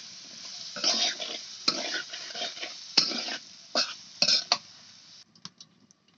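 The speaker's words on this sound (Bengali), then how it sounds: "এখন আমি ভালো করে ভেজে নেব সবজিগুলো" Potato, eggplant and other vegetables frying in a pan are stirred in a run of scraping, sizzling strokes over a few seconds, close and moderately loud, before the sound tapers into a few faint taps.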